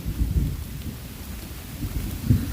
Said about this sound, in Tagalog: Lakas tuloy ng ulan, oh.